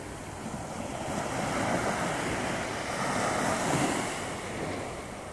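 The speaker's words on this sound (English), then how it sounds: "Takes about 12 to 18 minutes for the waves from the ships that go through the channel to get here." Waves raised by ships passing through a nearby channel wash steadily onto the shore on an autumn evening, a continuous surging wash with gentle swells and some wind noise, no voices.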